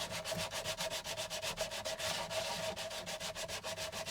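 Rhythmic back-and-forth sanding roughens a surface in preparation for gluing, a steady run of close, even rasping strokes with no talk.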